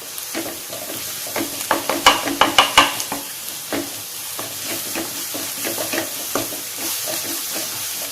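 Sliced onions sautéing in coconut oil for a prawn masala curry give a continuous sizzle broken by a cluster of loud, sharp spoon scrapes and knocks against the pan, then steadier stirring.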